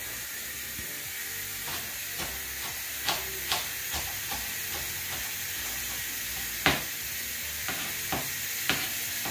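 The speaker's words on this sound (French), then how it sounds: "la cocotte commence à faire du bruit" A cast-iron pot sizzles and hisses steadily while onions cook, with scattered sharp clicks and pops from the pan over a constant steamy wash, no voices.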